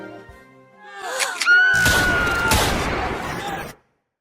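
A rapid burst of gunfire crackles amid shrill, wailing screams, loud and chaotic for a few seconds before cutting off abruptly into silence.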